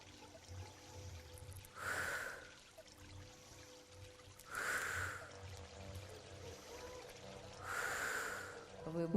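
A person doing a breathing exercise takes three deep, audible inhalations spaced a few seconds apart, each a breathy rush, with quiet pauses of held breath between them and soft background music underneath.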